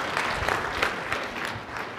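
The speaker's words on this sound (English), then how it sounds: "Give her a round of applause, Janine" A room of people applauds after a mock interview demonstration at a 2014 Biomedical Engineering Society annual meeting, a dense, steady burst of clapping that lasts about two seconds.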